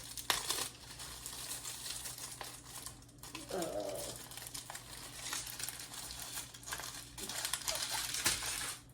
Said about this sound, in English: Trying to not like rip the plastic bag here.